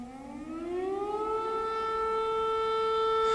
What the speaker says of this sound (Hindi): तो ये एयर रेड सायरन है।